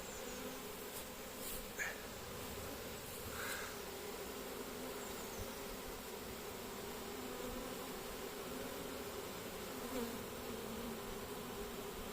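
Honey bees from a swarm captured with a pole at Combs-la-Ville hum in a steady, continuous drone close by, with occasional louder passes as individual bees fly near.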